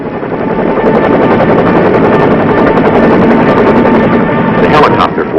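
Continuous loud helicopter engine and rotor noise from a 1967 Vietnam War military helicopter flying inland over a beach assault, steady throughout, with a faint voice underneath.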